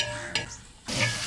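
Onions sizzle in a large deg cooking pot over a village fire, a loud close hiss broken by a brief stirring scrape and a short dip before the frying surges up again.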